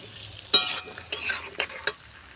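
Pan frying with a steady low sizzle, punctuated by four sharp scraping stirs of a utensil against the pan.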